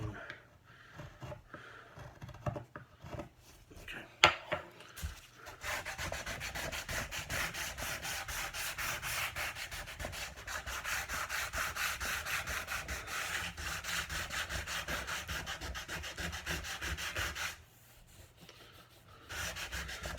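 Hand sanding across the grain of a wooden dining table piece, a steady abrasive rubbing that runs for several seconds after a few brief scrapes, then pauses and resumes, close and fairly loud with no talk.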